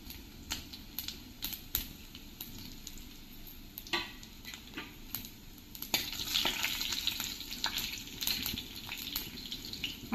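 Fenugreek seeds, curry leaves and cumin sizzle in hot oil for a tempering, a low, steady crackle with scattered small pops and clicks that grows a little brighter partway through.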